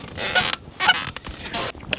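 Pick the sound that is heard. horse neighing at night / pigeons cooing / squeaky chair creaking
squeaky chair creaking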